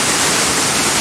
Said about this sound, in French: Voici l'état de la cascade.